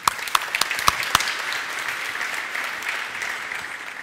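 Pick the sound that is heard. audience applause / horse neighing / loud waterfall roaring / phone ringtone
audience applause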